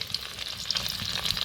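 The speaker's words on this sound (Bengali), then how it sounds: "কেটে রাখা পনিরটা ভালো করে ভেজে নিব।" Cubes of paneer fry in white oil with a little ghee, giving a steady, close, even sizzle with soft crackles throughout and no talking.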